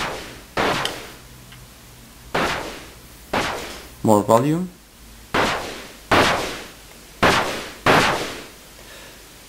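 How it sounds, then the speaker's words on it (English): Crash cymbal from a drum synthesizer module, set by its decay envelope, fires as about eight short, sharp, gunshot-like bursts with quick decay, evenly spaced and loud; a brief spoken phrase interrupts in the middle. "You hear that sounds not really like a crash, more like a gunshot."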